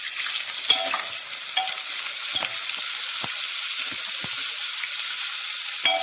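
Chopped onions fry in hot oil with cumin seeds and whole black peppercorns for chickpea chole, making a loud continuous sizzle up close, broken by small pops and scraping stirs.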